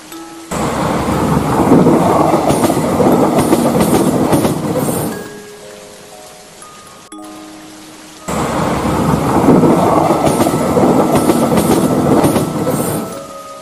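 A train rumbles loudly along the rails, a heavy roar that fades, briefly quiets, then surges back as strongly; no voices.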